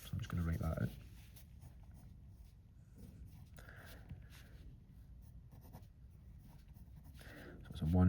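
A pen writes out a chemistry calculation on paper with soft, quiet scratching strokes in a hushed room. Brief louder bursts at the start and end may be a voice.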